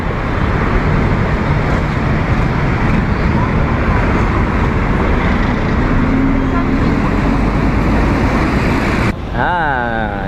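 Road traffic of mostly cars near Petaling Street in Malaysia forms a continuous, loud roar of passing vehicles and engines, with people talking over it and a brief warbling tone at the very end.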